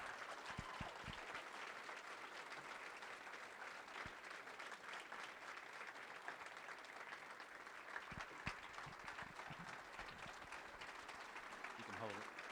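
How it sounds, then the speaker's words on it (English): A Rotary club audience gives a steady round of applause at a toast for Dr. Dan Eichenberger, a soft, continuous patter of many hands with faint voices mixed in, heard from some distance. "If you give me a round of applause"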